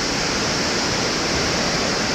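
Thompson Falls at Nyahururu thunders with a loud, steady, unbroken rush of falling water and spray, heard up close with no other sounds.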